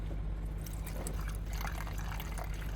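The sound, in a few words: water leaking to the ground from burst Toyota Camry radiator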